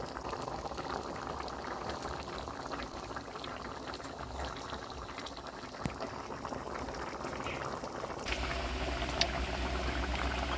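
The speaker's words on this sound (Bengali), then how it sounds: "এই মুহূর্তে ফুটে উঠেছে, দেখতেই পাচ্ছেন।" Liquid boils in a pot of chholar dal, a steady dense bubbling and simmering that runs unbroken throughout, moderately close, with no voices.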